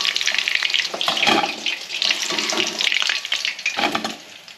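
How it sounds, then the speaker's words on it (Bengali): Marinated chicken pieces frying in oil over a medium flame, giving a loud, close, continuous crackling sizzle that swells and dips in bursts as the meat is moved around, with no voices. "মিডিয়াম ফ্লেমে ম্যারিনেট করে রাখা মাংসগুলোকে ভেজে নিচ্ছি।"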